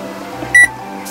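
A single short electronic beep from an electric hot pot being switched on rings out clearly over a low steady background hum, lasting a fraction of a second.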